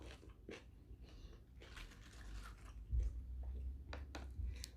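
Crunchy chewing of spicy kohlrabi som tam salad, with soft close bites and moist mouth sounds in an irregular rhythm over a low background rumble.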